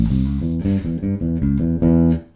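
An electric bass plays a fast blues unison line, a quick run of distinct plucked notes, clear and close with no voice.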